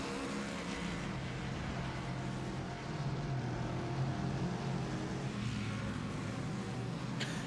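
Race cars from a GR86 and LMP3-GT4 series sweep onto the main straightaway in a steady, loud engine roar that holds for several seconds with no break.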